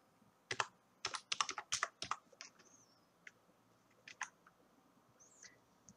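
Typing on a computer keyboard in quick, close bursts of key clicks, a dense cluster early on and then scattered single keystrokes and short runs with brief pauses between.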